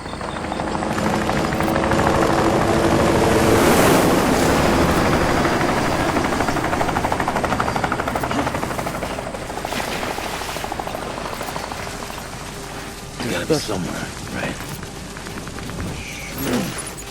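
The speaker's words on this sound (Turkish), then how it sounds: "helikopter." Helicopter in a war-themed video game, with a steady loud rotor and engine roar filling the first half, fading somewhat later under scattered game sounds and brief bangs.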